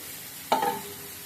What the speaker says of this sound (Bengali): তো ওইদিকে ভাজিটা হচ্ছে